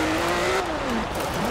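A racing car's engine in Forza Horizon 4 revs hard at the start, a loud continuous whine that climbs, dips as it shifts, then climbs again, with a faint tyre squeal mixed in.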